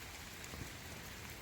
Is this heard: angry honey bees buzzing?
no